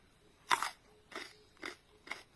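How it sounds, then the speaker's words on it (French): Four sharp crunching bites into a fresh, crisp bitter cola nut, evenly spaced about half a second apart, close and fairly loud against a quiet background. "Un Bitacola bien frais,"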